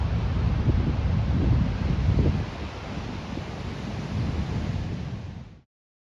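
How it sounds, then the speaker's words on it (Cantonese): Heavy wind roars steadily over loud surf below the sea cliffs at the Twelve Apostles, a continuous rumbling wash with swells of louder gusts before it cuts off near the end. "又加上個海面咧非常嘅咁大浪。"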